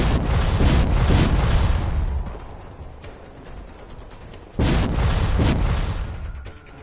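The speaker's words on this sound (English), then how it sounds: "So, the big kaboom hits old CIT." A massive explosion at CIT in the game Fallout 4, a loud rumbling roar that fades to a windy wash, then a second heavy blast surges up and slowly trails off.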